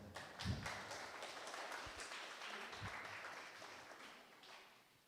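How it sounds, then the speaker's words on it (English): Audience applause at the opening event of a German championship, a faint scattered round of clapping with a few louder claps, fading toward the end. "You can clap for that."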